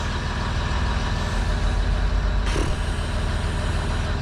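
A Land Rover Discovery 3 engine runs at a steady idle, a loud, close and continuous drone that does not change throughout.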